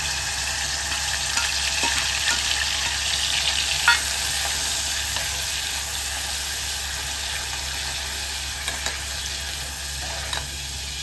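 Grated dry coconut roasting in oil in a pan with onion, a steady close sizzling hiss with a few faint scrapes of a spoon, no talking.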